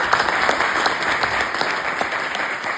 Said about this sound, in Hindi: तालियां होंगी।